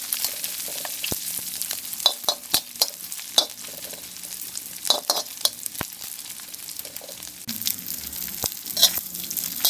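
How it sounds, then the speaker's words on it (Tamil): Belacan and anchovies frying crisply in hot oil while being stirred, with steady sizzling and crackling broken by frequent sharp spatula scrapes and clinks against the pan, close and continuous without talk. "இதையும் வந்து சேர்த்து நல்லா மொறு மொறுன்னு இந்த மாதிரி வதக்கி எடுத்தீங்கன்னு சொன்னாக்க பாருங்க, இந்த பிளாச்சான்லாம் நல்லா மொறுமொறுன்னு ஆயிடுச்சு"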